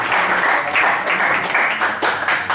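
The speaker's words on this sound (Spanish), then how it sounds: "Quiero que le demos un aplauso y a señal de agradecimiento, doctor" An audience applauding a visiting doctor at a student talk, loud steady clapping from a crowd throughout, with slight surges.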